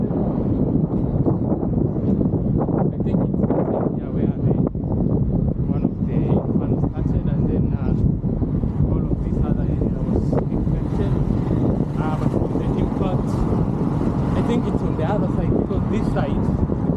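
Heavy, constant wind buffeting an outdoor microphone while someone moves slowly into a headwind, a loud roaring rumble that fills the whole stretch without pause.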